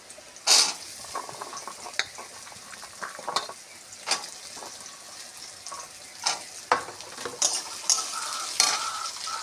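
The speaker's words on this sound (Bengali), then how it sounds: "আলুগুলো একটু ভেজে নেব।" Small diced potatoes frying in a pan, a soft sizzle under repeated stirring scrapes and sharp clinks of a utensil against the pan, with no one talking.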